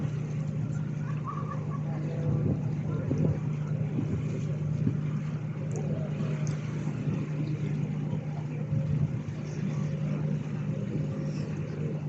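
A steady low engine drone of a boat motoring along on a lake toward Ambleside Pier, with water and wind noise throughout, holding a constant level as it moves closer.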